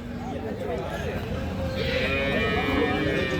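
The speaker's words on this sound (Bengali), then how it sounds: "একটা শাহিওয়াল জাতের গাভী দেখতেছি" A Sahiwal dairy cow, kept with her calf, gives a drawn-out, resonant moo close by, while people talk nearby.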